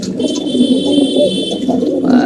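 Pigeons coo in a low, steady, continuous murmur from start to end, close and clear with no talking. The birds are feather-legged, plumed from head to feet, and many are molting.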